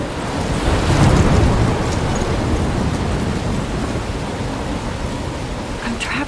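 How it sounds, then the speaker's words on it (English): Steady roaring downpour of a thunderstorm in the game Life is Strange, dense wash of rain with a low rumble of thunder swelling early on, loud and continuous throughout. "I'm trapped in a storm?"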